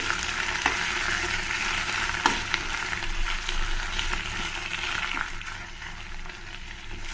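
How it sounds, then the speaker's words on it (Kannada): Garlic and green chillies, six chillies among them, frying in oil for a basale leaf tambuli, giving a steady close sizzle with occasional sharper pops and crackles throughout, no voices. "ಆ ಎಣ್ಣೆಯಲ್ಲಿ ಇದು ಮೂರನ್ನು ಸ್ವಲ್ಪ ಚೆನ್ನಾಗಿ ಫ್ರೈ ಮಾಡ್ಕೊಳ್ತೀನಿ"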